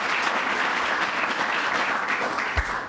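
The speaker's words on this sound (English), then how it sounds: "So let's give them another round of applause" A crowd applauds steadily and loudly at Governor Cuomo's broadband announcement, dense clapping sustained for the full few seconds with no voices on top.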